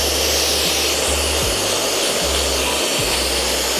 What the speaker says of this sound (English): So I'm gonna go back in with my blow dryer.